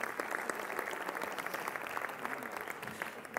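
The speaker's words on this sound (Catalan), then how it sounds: "un fort aplaudiment per la Cristina" Audience at a Catalan educational leadership event applauding a volunteer, dense continuous clapping from a crowd held at a steady level for a few seconds.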